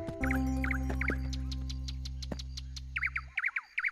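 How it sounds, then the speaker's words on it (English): Bright cartoon birdsong with repeated short chirping phrases over a steady sustained musical tone, the chirps growing louder and more prominent once the tone stops near the end. "What lovely bird song."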